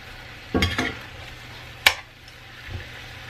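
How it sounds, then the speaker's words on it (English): Meat for carne con papas en chile is stirred in a frying pan, a few soft scraping clinks of a utensil against the pan over a faint, steady sizzle, close by with no talk. "So I'm going to come and give the meat a stir now."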